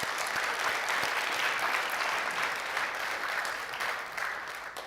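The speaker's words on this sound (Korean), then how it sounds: "우리 한번 오늘 찬양했던 우리 EM 쪽 팀들한테 박수 한번 할까요?" A church congregation applauds steadily, a dense wash of clapping from many hands that holds loud and even for several seconds before tapering slightly.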